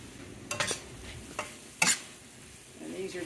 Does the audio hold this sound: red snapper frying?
yes